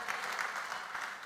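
A church congregation claps together in praise of God, a short, even burst of applause at moderate distance with no speech over it.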